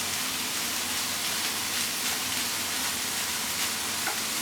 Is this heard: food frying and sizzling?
yes